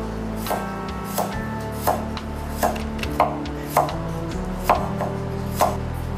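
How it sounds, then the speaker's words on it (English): A knife chops a garlic clove very finely on a cutting board, giving about ten crisp, evenly spaced taps at close range, loud and clear with no talk. "we chop the garlics very finely."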